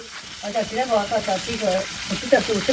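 Food pops and sizzles as it fries in a pan, a soft hissing crackle under people talking close by.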